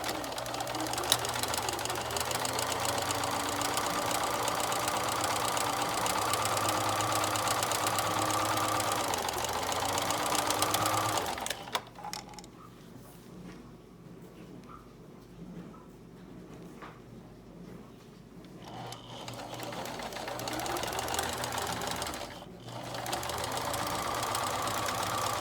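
A sewing machine stitches the sides of a fabric mask, its motor whirring in a steady loud hum for about eleven seconds, pausing through a quieter stretch with light handling noises, then running again.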